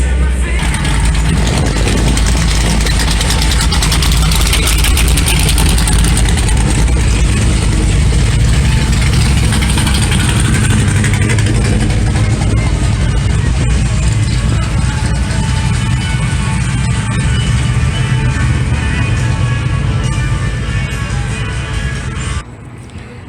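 An engine runs at a Good Guys car show in Puyallup, a loud, continuous mechanical drone with rattly, ratchet-like clatter close by, holding steady before dropping off at the very end.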